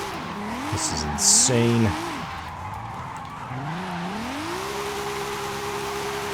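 Toyota AE86 Trueno with a 2JZ engine swap drifting in Forza Horizon 5, engine droning and shifting pitch as the tires squeal through quick side-to-side transitions, with someone talking briefly over it.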